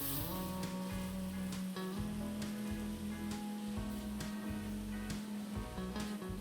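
Sprouted moth beans sautéing in a pan with onion and rice, a steady soft sizzle with faint stirring scrapes, continuous and close.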